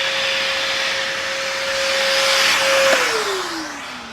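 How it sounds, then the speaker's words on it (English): A shop vac collects sawdust while a sapele outdoor railing is being fixed, giving a loud, steady close whine with a sustained tone that falls in pitch near the end. "You can tell that the shop vac is struggling to keep up with the amount of dust."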